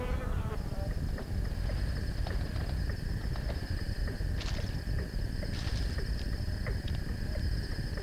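Insects buzz steadily around flowering plants in the Australian bush, a continuous whirring drone with a few faint bird chirps scattered through it.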